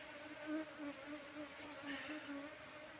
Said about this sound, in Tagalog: Ang dami pang bubuyog mga idol sa loob.